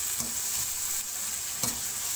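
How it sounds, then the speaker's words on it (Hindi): Crushed chilli, whole spices and cumin frying in a pot as they are stirred, with a continuous sizzle broken by two distinct scraping strokes, close and alone. "अब हम इसमें डालेंगे सफ़ेद ज़ीरा और इसे अच्छे से मिक्स कर लेंगे"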